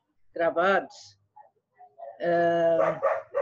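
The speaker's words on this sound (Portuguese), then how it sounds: "os cachorros latindo me prejudica" Dogs barking in two bursts with a quiet gap between, fairly close, overlapping someone speaking in Portuguese.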